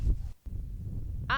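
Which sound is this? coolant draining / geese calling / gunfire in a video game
geese calling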